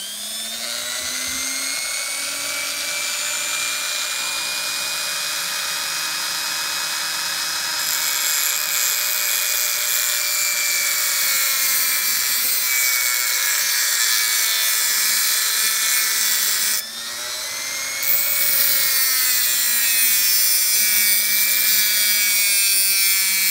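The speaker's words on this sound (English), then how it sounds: "Locomotive ran great before, so I'm gonna start milling now." High-pitched whine of a small rotary milling tool cutting an N scale Atlas Master Line Alco C420 locomotive frame, loud and steady with pitch sagging under load, one brief dropout near the end before resuming.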